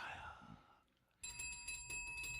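A bright bicycle-style bell rings in several quick repeated dings as a sound effect, coming right after a moment of talk has faded out.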